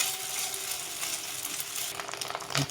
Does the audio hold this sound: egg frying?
yes